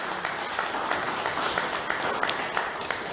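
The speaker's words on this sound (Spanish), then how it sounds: "Denle un aplauso grande al Señor en esta mañana." A church congregation claps together in a morning service, a steady wash of many hands at moderate loudness, continuous throughout with no talking.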